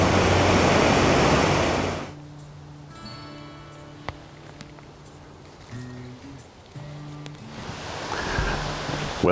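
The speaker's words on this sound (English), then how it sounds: "we can hear water" Broad loud rushing water from a small creek for the first two seconds, then quieter steady trickling with faint tonal hums and a few ticks, the rush swelling again at the end.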